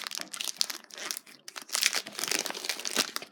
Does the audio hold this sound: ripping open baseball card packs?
yes